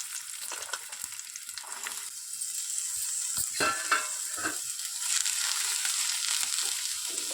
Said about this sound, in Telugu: కొంచెం గోల్డ్ కలర్ వచ్చే వరకు ఫ్రై చేసుకుందాం